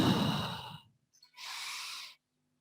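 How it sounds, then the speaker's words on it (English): A person demonstrates normal breathing in a teaching setting: two breaths, a broad inhale followed after a short pause by a steady exhale, close to the mic with no talking. "This is normal breathing"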